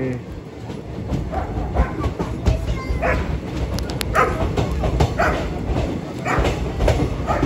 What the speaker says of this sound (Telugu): జల్నా స్టేషన్ లోపలికి వెళ్తున్నాం.